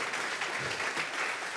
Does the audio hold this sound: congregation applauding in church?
yes